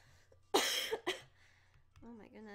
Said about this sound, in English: I'm so sorry about my coughing.